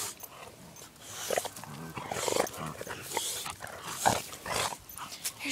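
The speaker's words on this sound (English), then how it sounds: "There's doggies fighting behind me." Dogs snarling and yelping in a scuffle, bursts of growls and yips rising and falling, with a person's voice faintly underneath.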